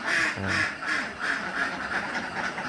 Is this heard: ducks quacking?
yes